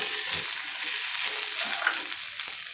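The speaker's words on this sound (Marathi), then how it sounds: "आता हे सुद्धा भाज्या छान परतून झालेल्या आहेत त्याच्यामध्ये आपण आता कोबी टाकून घेऊयात" Mixed vegetables with cabbage stir-frying in a hot pan for fried rice, a steady close sizzle broken by scraping stirs of the spatula, no voices.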